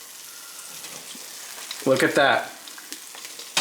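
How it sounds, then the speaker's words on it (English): Eggs sizzle in a non-stick frying pan, a soft continuous crackle and hiss running throughout, briefly covered by a short spoken remark. "Any non-stick frying pan will work, especially with frying eggs."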